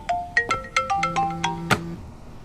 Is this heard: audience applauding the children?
no